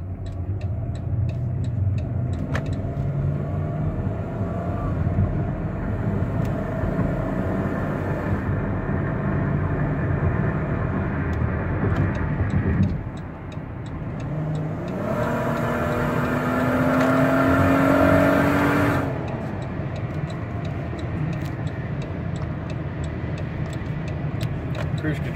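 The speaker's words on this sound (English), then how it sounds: "so you can hear the transmission shift and the engine go" A 2018 Dodge Caravan SE wheelchair van engine drones steadily, its pitch climbing and then dropping as the transmission shifts gears, with a rising whine midway and faint ticking throughout.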